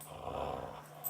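A dog growls while playing tug with a rope, a low, continuous rumbling snarl held close for about a second, fairly quiet, with no talk.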